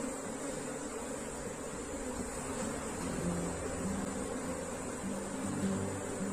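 An Africanized honeybee swarm in an open hive makes a dense, continuous buzzing drone that holds at an even loudness throughout, close by and without speech.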